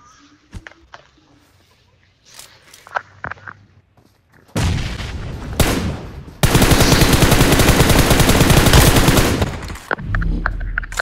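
Gunfire in the PUBG Mobile video game: scattered shots build into loud, rapid machine-gun bursts that run for several seconds, with a long sustained volley near the end and faint talk underneath.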